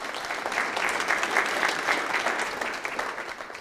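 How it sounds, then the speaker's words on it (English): An audience applauds board members Lori Trent and Liz Stump at a school facilities master planning community engagement session, a steady, dense round of clapping filling the room at moderate volume without a break. "Please give them a round of applause."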